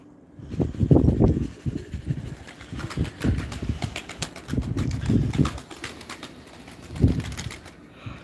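Pigeons kept in a loft with young birds coo in several low, throaty bursts, mixed with light clicking and flapping noises close by and no talking.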